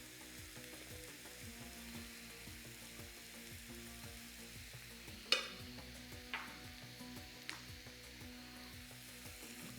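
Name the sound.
stirring frying ground beef with spices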